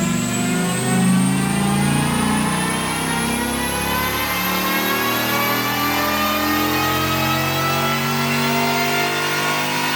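A Dodge Viper engine revs hard on a dyno run, a loud, continuous rising roar that sweeps steadily upward in pitch for the whole stretch, close and alone without voices.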